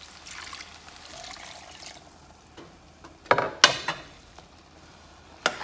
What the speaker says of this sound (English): And now I'm going to put the rest of the water in.